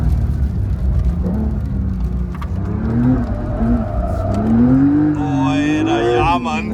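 An all-wheel-drive Porsche 992 Dakar slides sideways through deep snow, its engine loud and close, droning and climbing in pitch as the revs rise and fall through the drift.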